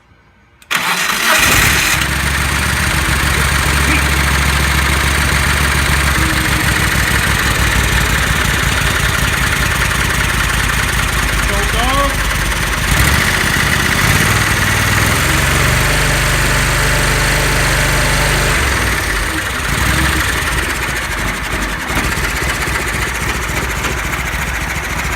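A Kohler 20 hp V-twin engine on full choke cranks and catches, then settles into a steady, loud idle that runs continuously close by with only slight shifts in pitch.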